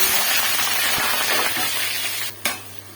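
Onions and tomatoes fry for a spicy Hyderabadi pulao, giving a loud, close, steady sizzle with a sharp clatter near the end and no talking.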